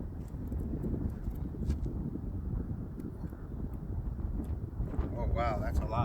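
Strong wind buffets the microphone in a steady, loud low roar outdoors at a high-wind airgun range, with people talking briefly over it.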